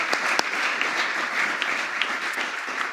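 A crowd at a White House Hanukkah menorah lighting applauds in a steady, diffuse wash of clapping that stays even throughout, with a few sharper claps standing out near the front.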